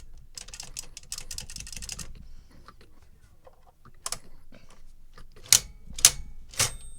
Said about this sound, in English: Yay, there's the ding.